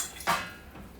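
A spoon stirs banana nut bread batter in a bowl, giving a single short scrape against the side with quiet room tone around it.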